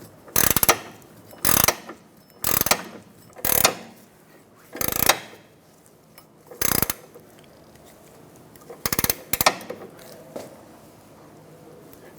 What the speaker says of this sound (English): I'm going to hold the center stud while I twist the nut using an 18mm